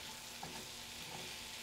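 Black beans frying in a hot pan while being stirred and mashed down, a steady sizzle with soft scraping and stirring movement throughout, no voices.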